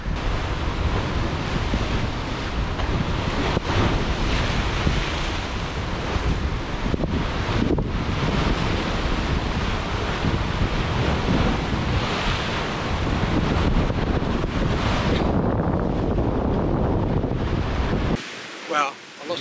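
Strong wind gusts roar across the microphone while the sea surges and breaks against a rocky Jurassic shoreline as the weather builds, a loud, continuous churn of surf and buffeting that drops away abruptly near the end.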